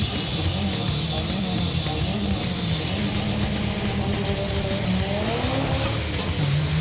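Small-block Chevy-powered Jeep CJ7 at a drag race, a loud sustained engine roar with squealing tires and a rising then falling pitch as it runs, continuous and fairly close.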